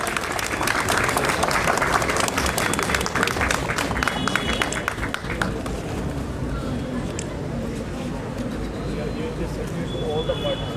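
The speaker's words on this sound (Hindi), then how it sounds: "जोरदार तालियां हो जाए." An audience at a World Cancer Day awareness event claps steadily for several seconds, then the applause thins into scattered claps over background crowd murmur and outdoor ambience.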